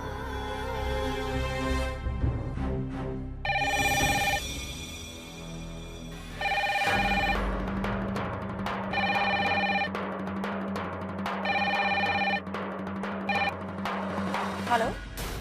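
A telephone rings during a call, a repeated electronic ringtone in bursts with pauses between them, loud and clear over a background of music.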